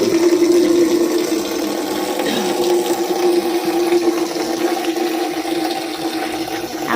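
Clothes being washed by hand in water at home, a steady running-water rush with sloshing that holds at an even, fairly loud level throughout, with no talking.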